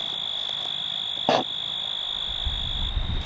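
Insects sing outdoors among flowers in a loud, continuous, steady high-pitched drone, with a brief rustling burst partway through and faint low rumbling near the end.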